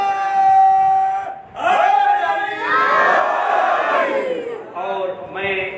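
A crowd at a first-of-Muharram religious gathering chants a slogan in loud, drawn-out unison, voices swelling together with a brief dip partway through, then resuming strongly.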